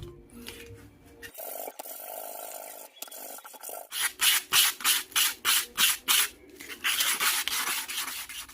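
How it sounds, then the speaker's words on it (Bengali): Sandpaper of the grade used for rubbing down putty scrapes back and forth over a handmade khomok, a folk instrument, first in long rough strokes, then in a quick rhythmic run of about ten close, loud rasps. "একটা পুট্টি ঘষার জন্য যে সিরিজ পেপারটা ব্যবহার করা হয়, আমি এখানে সেটা ব্যবহার করছি।"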